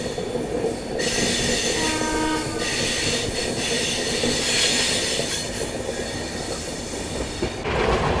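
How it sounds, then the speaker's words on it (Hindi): Taj Express pulling out on the Nizamuddin line, wheels squealing and rumbling loudly nearby with a horn-like tone and clattering cars passing steadily throughout. "निकल रही है ताज एक्सप्रेस"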